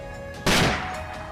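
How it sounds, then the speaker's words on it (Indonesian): A sudden headshot gunshot in a video game bursts out as one loud, sharp blast over a steady game soundtrack, then trails off into a brief fading echo. "sebuah tembakan headshot dari Dark Feather yang lalu pada akhirnya mengakhiri riwayat si wanita tersebut"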